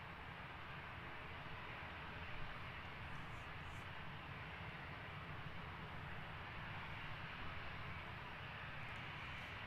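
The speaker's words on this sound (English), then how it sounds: "easyJet 8035 lined up, ready to go, heading off to Tenerife" An easyJet plane bound for Tenerife takes off at London Gatwick Airport, heard as a distant, steady low jet-engine roar with a broad rumbling hiss throughout.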